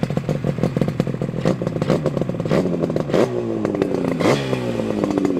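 A 1975 Yamaha RD350 two-stroke, six-speed cafe racer engine runs close by, a loud, continuous buzzy idle with brief revs rising and falling and faint mechanical clatter.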